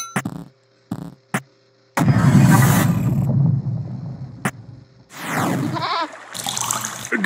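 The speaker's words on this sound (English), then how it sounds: "A goat! Obviously." Game-audio goat bleats, a short wavering cry after a few sharp clicks, with a brief splash-like burst between.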